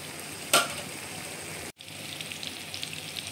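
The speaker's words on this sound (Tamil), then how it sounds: "போட்டுட்டு நல்லா மிக்ஸ் பண்ணுங்கள். நல்லா வேகட்டும்." Tomato thokku with fenugreek cooking in oil, a soft continuous sizzle and bubbling with one sharp clatter early on and a brief cut to silence before the frying resumes, close by and without talk.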